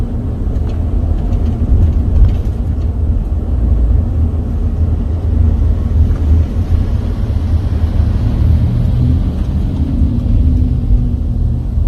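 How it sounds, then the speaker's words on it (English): Cars speed past on a two-lane freeway, a steady low rumbling traffic drone with swelling passes, close and loud, no talking. "that's cars on the side. It's 2 lanes and they're just flying."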